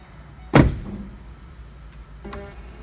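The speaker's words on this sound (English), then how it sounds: "And then just keep working the board by opening and closing the door like that." A stuck Ford power running board being worked as the truck door swings open and shut: one loud, close thunk of the door, then a fainter knock a couple of seconds later.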